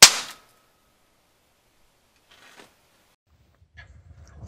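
A stud welder fires a stud onto a metal shaft with one abrupt loud bang and clang at the start, then near silence with faint handling noises afterward.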